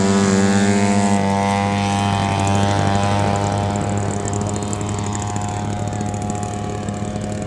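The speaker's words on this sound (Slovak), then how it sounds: "Modelom amatérskeho lietadla." A model amateur airplane engine at an LMK Liptov club event runs loud and steady close by, a continuous high buzzing drone with a dense stack of harmonics and no voices.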